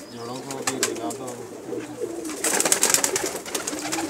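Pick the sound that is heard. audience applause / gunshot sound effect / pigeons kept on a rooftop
pigeons kept on a rooftop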